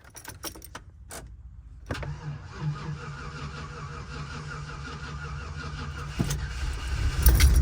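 Nissan 240 car with keys jangling in the ignition, then a cranking start that catches into a steady, close idle that rises slightly toward the end.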